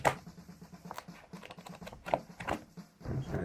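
Paper pages of a school planner flipped and riffled up close, a quick run of dry rustling patter with a few sharper flaps, heard alone.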